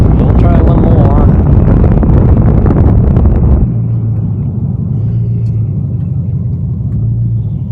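A 2002 Camaro SS with 3.90 gears roars through a 0-60 acceleration run, a loud in-cabin engine rumble mixed with wind noise that suddenly drops to a lower, steadier drone partway through.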